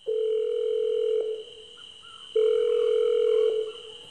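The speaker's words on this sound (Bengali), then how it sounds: "ফোনটা রেখে আবার শুভ্রকে ফোন করলো অলি" A telephone dial tone sounds as a call is placed: a steady, loud tone runs for about a second, breaks off briefly, then returns for another second, with no voices.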